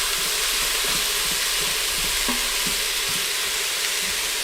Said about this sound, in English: make sure you're using a flat-edged wooden spoon so that you can scrape the bottom as we're working with this